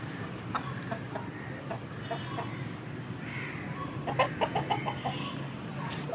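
Chickens cluck in short irregular bursts over a steady low farmyard rumble, growing busier toward the end.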